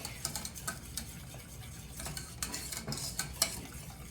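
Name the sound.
whisking roux in a pan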